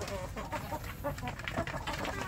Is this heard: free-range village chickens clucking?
yes